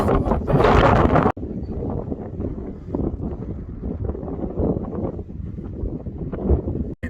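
Wind blowing at a seaside harbour in Auchmithie, Scotland, a steady rough roar of gusts buffeting the microphone, loudest in the first second and then a continuous rushing rumble.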